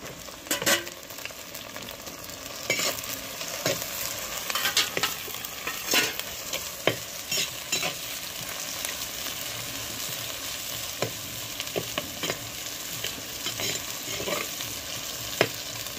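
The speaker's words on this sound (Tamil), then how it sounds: "சின்ன வெங்காயம் போட்டு வணக்கிட்டு தக்காளி 2 கட் பண்ணி வச்சுருக்கேன்" Shallots and tomatoes fry loudly in a pan for a village-style country chicken curry, with an even sizzle and repeated spatula scrapes and knocks throughout.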